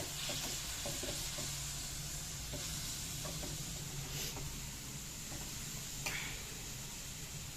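Grated beetroot sizzles softly in melted ghee in a pan and is stirred, giving a steady low frying hiss with occasional scraping strokes, close and fairly quiet, with no talking.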